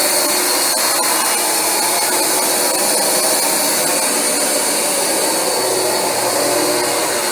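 A Rug Doctor X-3 carpet cleaner runs over carpet with a loud, steady motor whine and suction hiss, constant and close for the whole stretch with no talking.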